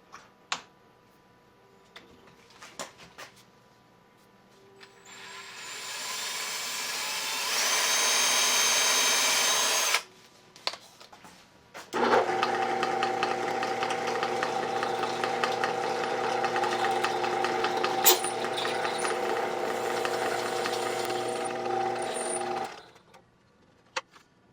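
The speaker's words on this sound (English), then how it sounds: "I've got to drill it a bit bigger." A Lantaine LAM-350H metal lathe enlarges a hole with a drill: a few clicks, then a steady whine for about five seconds, a pause, and a longer, louder drone with tonal hum that cuts off near the end.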